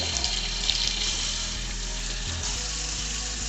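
Warm tap water runs continuously into a kitchen sink while seeds are rinsed out of halved peppers, a steady close hiss and splash with no voices.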